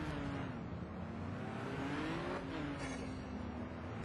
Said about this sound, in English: The marshal raised the yellow flag, and we get underway with the race.